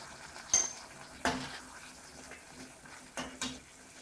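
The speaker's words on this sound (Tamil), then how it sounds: "அரைச்சி வச்சிருக்கிற பச்சை வாடை போக வதக்க போறேன்." Ground coriander and mint paste sautéing in a pan, with a few sharp spoon or spatula scrapes and clinks over a faint low sizzle.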